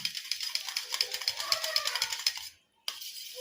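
Cracked eggs beaten in a bowl: a fast, even run of close, clicking taps as a utensil whisks against the bowl, stopping abruptly before a brief final scrape.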